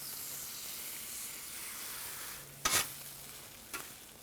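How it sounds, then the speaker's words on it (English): Eighteen whisked eggs cook on a hot griddle with sausage, tortilla and vegetables, giving a soft, steady sizzle, with one sharp clatter near the end and a fainter knock after it. "I'm going to add 18 whisked eggs and finish the cook"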